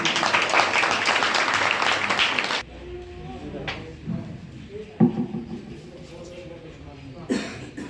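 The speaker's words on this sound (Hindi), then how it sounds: "एक बार जोरदार तालियां" An audience at a company presentation bursts into a short, loud round of clapping that stops abruptly, followed by quieter room sounds, coughs and a voice speaking.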